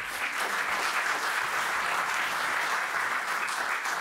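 Steady, dense applause from a large concert audience, continuous clapping filling the space without a break.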